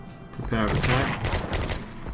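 Tank attack gunfire in the World War II strategy game Strategic Command, a short cluster of rapid overlapping gunshot bursts and rattling fire, with a voice speaking faintly underneath.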